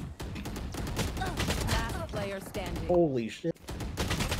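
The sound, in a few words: gunfire in the video game Valorant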